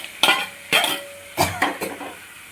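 Marinated, pre-fried chicken pieces tip into a pan for chilli chicken and get stirred, with several distinct clattering scrapes and knocks of utensil against pan spaced about half a second apart, close and fairly loud.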